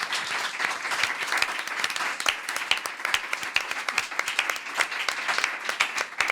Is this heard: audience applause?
yes